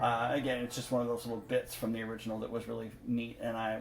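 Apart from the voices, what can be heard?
No everyday noise stands out behind the speech.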